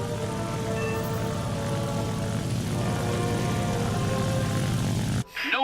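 A propeller plane's engine drones steadily in the War Thunder tutorial, a continuous close hum with a faint tonal whine that cuts off abruptly near the end, followed by a short burst of different sound.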